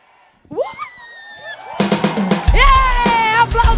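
A church congregation cheers, shouts and whoops, rising quickly from a few scattered voices to a loud, dense roar of the crowd.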